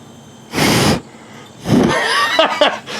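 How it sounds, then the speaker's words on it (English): Wind buffeting a microphone outdoors beside a plasma arc lighter, with two loud low rumbling gusts separated by quieter stretches, the second trailing into softer rustles and faint tones. "Sorry about the wind noise."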